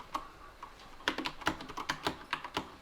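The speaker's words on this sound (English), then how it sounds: "Well, it types just like a keyboard." Keys clack on a Simulant Amiga-style computer keyboard hooked to an old PC, with sparse taps at first, then a quicker run of crisp, close keystrokes.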